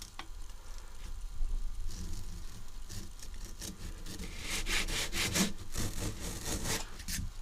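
A hand saw cuts a wooden strip for a kumiko lattice, steady rasping strokes close by that grow brighter and more rhythmic toward the end, with no talking.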